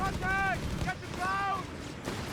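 Flak gunfire in the Company of Heroes 3 strategy game, with rapid booming bursts under a dense battle din, while a commentator speaks over the top.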